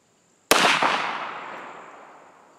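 A single sharp, loud gunshot cracks from a cast bullet fired into a homemade self-sealing bullet trap made from household waste, its report ringing out and decaying over about two seconds.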